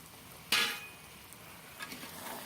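Desi chicken meat drops into hot oil and spices in a clay pot, setting off a sudden loud sizzle that fades to a steady frying hiss with faint clinks of the pan.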